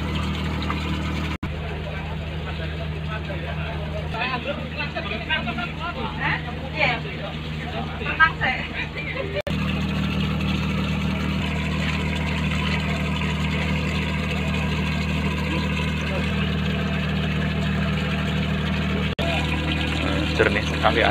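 The wooden boat KM Banawa at sea near Karimunjawa, its engine giving a continuous low droning hum throughout, with people talking over it.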